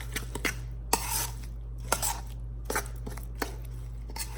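Corn muffin batter is mixed in a bowl, with spaced, faint clinks and scrapes of a utensil against the bowl over a steady low background hum, no talking.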